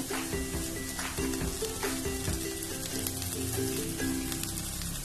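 Marinated chicken dropped into a pan of fried-down spice paste for chicken kosha cooked with very little oil, sizzling and crackling steadily up close with stirring scrapes, no voices.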